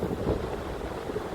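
Water and waves wash at Hemsby Beach near Great Yarmouth, a steady low rushing surf mixed with wind buffeting the microphone, continuous and fairly close with no voices.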